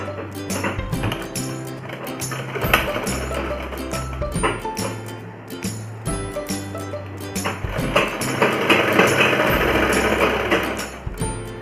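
An electric sewing machine stitches palazzo trouser fabric in rapid, loud mechanical bursts, stopping and restarting several times with brief clacking pauses between runs.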